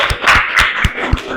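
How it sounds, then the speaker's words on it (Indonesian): Quick, rhythmic clapping from a seventh-grade class applauding a student group after its presentation, with light laughter mixed in. "Kasih tepuk tangan buat kelompok 1"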